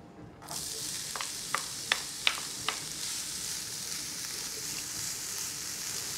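Onion and spinach sizzle in hot oil in a pot, a steady bright frying hiss with a few sharp spatter pops near the start, up close and without talk.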